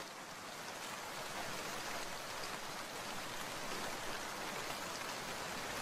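Steady rain falls in a rainy-day scene from an animated Bengali story, a constant soft hiss of drops with no pauses or voices.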